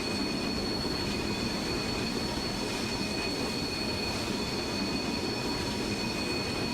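Train running on the Mannheim–Karlsruhe route in Train Simulator 2016, a steady close rumble of rolling wheels with high squealing tones sustained throughout, no voices.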